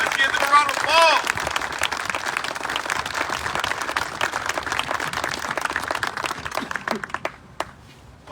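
Crowd applause at an outdoor school ribbon-cutting ceremony in Aurora, Illinois, a steady burst of clapping from a gathered audience that swells and then thins out toward the end, with brief voices mixed in.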